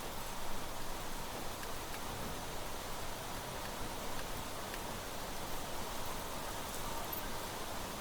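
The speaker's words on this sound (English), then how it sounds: "I think it's just raining. Yeah, look, there's drips coming down from above." Steady rain falling and dripping from overhead in The Planet Crafter, a continuous even hiss of droplets with no distinct rhythm, moderately loud and without speech.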